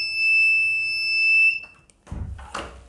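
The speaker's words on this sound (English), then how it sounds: "the alarm will start beeping." A door security alarm emits a loud, high, steady beeping tone for about a second and a half, then cuts off, followed by clunky handling noises.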